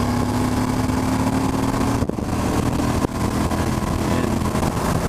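A 2018 Suzuki V-Strom 1000 motorcycle engine drones steadily while riding, a loud continuous mid-range hum with wind noise and two brief dips, no talking.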